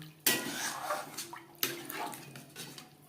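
Water poured into a cooking pan for a Bengali rohu fish curry with flat bean seeds, splashing in two sharp bursts followed by fainter trickling and clinking against the pan, close by with no talk.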